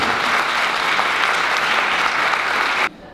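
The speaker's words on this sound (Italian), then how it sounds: "io vi chiedo un ulteriore applauso per farlo sentire a tutte le persone che stanno aspettando" Crowd at a dance competition applauds loudly and steadily for about three seconds, a dense wash of clapping that stops abruptly.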